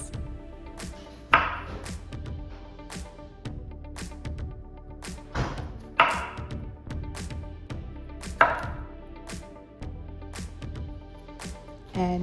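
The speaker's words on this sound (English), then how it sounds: "And here he is chopping up 2 zucchinis." A knife chops two zucchinis on a cutting board in a home kitchen, with a few sharp, irregularly spaced thuds close by and quiet background noise between them.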